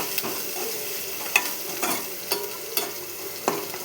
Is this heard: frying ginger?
yes